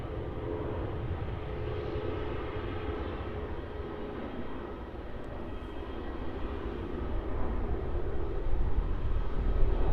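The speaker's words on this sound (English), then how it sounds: "here goes that QF717-200 that's going to be flying off to Canberra" A Qantas 717-200 airliner takes off from Melbourne Airport at night, bound for Canberra, its engines a broad, steady roar that holds throughout and swells slightly toward the end, with no voices.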